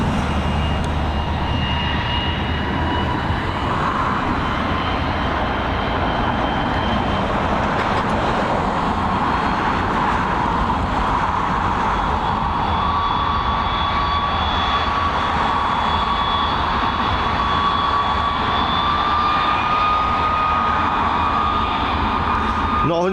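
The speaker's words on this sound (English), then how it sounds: "we've got the 787-9 series, the little sister of that Etihad." A Boeing 787-9 airliner at Dublin Airport produces a steady, loud broadband engine roar with a rising whine, running continuously throughout, with a low rumble and some ambient road-traffic noise.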